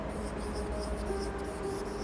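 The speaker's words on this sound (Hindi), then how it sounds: "यहां पे लिखता हूं" Chalk or marker writing on a board during a classroom lesson on track and field events, a steady soft scratching texture running throughout, close and fairly quiet with no voices.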